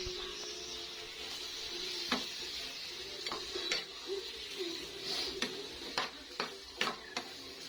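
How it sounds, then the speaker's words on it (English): Pork frying until crisp in a pan for Filipino pinakbet: a steady close sizzle with scattered sharp clicks and utensil taps, no voices. "our first step is to cook the pork until crisp."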